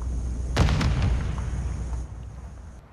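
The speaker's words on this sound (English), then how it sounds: "Hostile airstrike incoming." Airstrike explosions in Call of Duty, a cluster of close, heavy booming blasts in quick succession that rumble and fade into a low residual roar.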